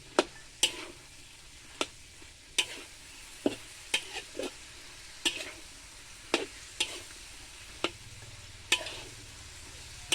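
Spicy chicken stir-fried with fresh winged beans, a spatula scraping and clacking in the pan in about a dozen sharp strikes over a faint low sizzle, with no voices.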